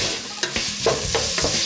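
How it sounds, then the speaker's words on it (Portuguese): Chopped onion and bacon sautéing in a pan for minestrone soup, with a steady close sizzle under several quick scraping stirs of a spoon against the pan. "vamos deixar a cebola dar uma refogada agora com esse bacon"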